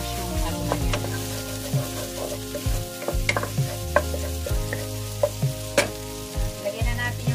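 Ginger sautéing in a hot pan for shrimp in coconut milk, sizzling loudly and steadily while a spatula stirs and scrapes, producing sharp clinks and knocks against the pan.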